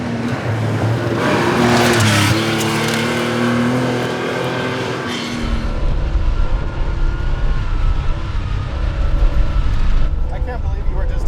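A 1987 Porsche 911 Carrera driven hard on a dirt road, engine loud and revving with shifting pitch and steady gravel and wind roar from inside the car, voices talking over it.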